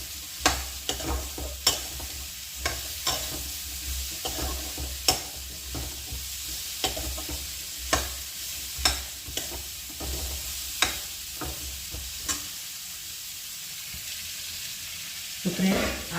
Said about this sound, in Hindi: तो अब मैं इसको कर देती हूँ मिक्स।